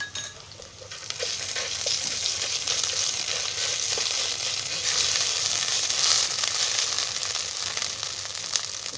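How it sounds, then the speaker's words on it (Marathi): Ginger garlic paste frying with curry leaves, green chilli and cumin in a pan, giving a steady loud sizzle throughout with occasional clinks of a utensil and no talking. "त्याच्यामध्ये ही अद्रक लसूणची पेस्ट टाकायची."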